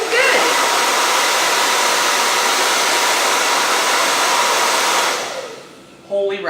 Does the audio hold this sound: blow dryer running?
yes